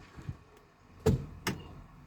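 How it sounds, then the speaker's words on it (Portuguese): Two sharp mechanical clicks about half a second apart as the contactor of an electric-converted Volkswagen Beetle switches on, the first a solid clunk, the second lighter, over a faint quiet background with no talking. "ele vai ligar o contator lá atrás, ele faz até um barulho característico"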